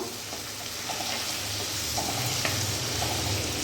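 Taro stolons frying in a pan over a medium gas flame, giving a steady close sizzle with soft stirring scrapes now and then, no talking.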